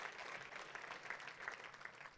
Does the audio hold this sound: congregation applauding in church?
yes